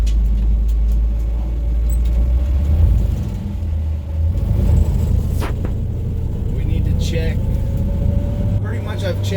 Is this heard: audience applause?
no